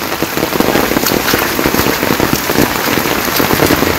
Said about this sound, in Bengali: কি পরিমাণ বৃষ্টি হইতেছে জল দেখলে বোঝা যায়